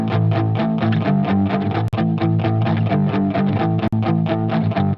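Electric guitar strummed in a steady rhythm, the chords swirling with chorus and phaser modulation, loud and up close.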